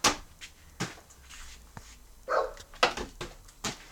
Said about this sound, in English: Wow, your dog's barking.